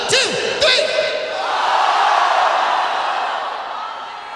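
A concert crowd in Sheffield roars a shouted name back at the stage, a loud swelling wall of massed voices that builds and then fades, after a few brief shouts near the start.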